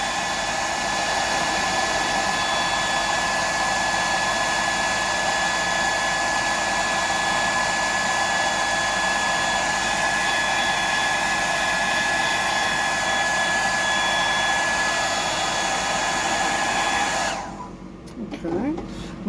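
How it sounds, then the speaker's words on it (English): A hair dryer blowing steadily at full power with a constant whine and rushing air, then switching off near the end. "I'll just dry that off because I like the heat on the air dryer."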